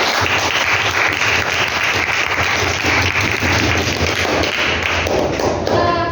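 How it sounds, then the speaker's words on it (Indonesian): Students in a classroom give their groups a sustained, even round of applause, dense clapping that fills the room steadily with no talk over it. "Beri aplaus yang meriah untuk kelompok 1, 2, 3, 4, dan 5."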